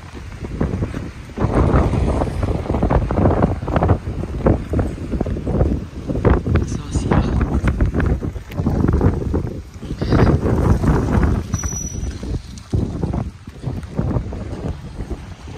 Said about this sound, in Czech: Silný nárazový vítr a vytrvalý déšť.